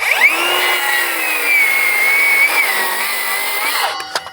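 A Makita 40V rear handle circular saw cuts through wood in one continuous, loud, close whine that holds steady for about four seconds, then spins down with a few clunks at the end.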